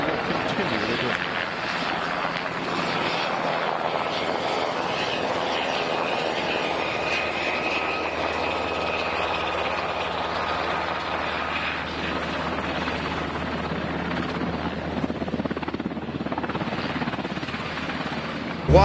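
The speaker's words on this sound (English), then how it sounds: "All three engines up and burning. 2, 1, 0, and liftoff." Space shuttle Atlantis lifting off on its final launch, its engines producing a loud, steady, broadband roar that holds unbroken for nearly twenty seconds, with voices faintly mixed in.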